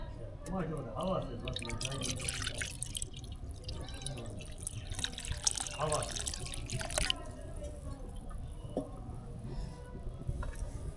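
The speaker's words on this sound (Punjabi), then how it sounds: "ਹੁਣ ਆਪਾਂ ਪਾਣੀ ਪਾਵਾਂਗੇ" Water splashes and trickles into a metal wok over a fire amid kitchen noise, with a person talking over it.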